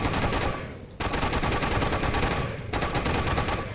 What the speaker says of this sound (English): It's like kind of flak shots or whatever.